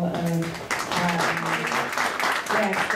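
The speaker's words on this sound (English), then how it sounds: "can you join me by just a round of applause for all of guests" Guests, students and cadets at a military awards ceremony applaud steadily for the honored guests, a moderate, even patter of many hands, with faint musical or vocal tones beneath.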